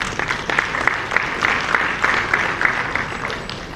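Applause from an audience at a formal event welcoming the U.S. ambassador to Sierra Leone, brisk rhythmic clapping that holds steady and fairly loud for several seconds.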